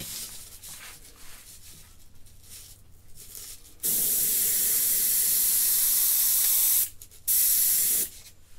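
A loud, steady hiss of an airbrush spraying paint runs for about three seconds, pauses briefly, then sprays again, with quiet room noise before.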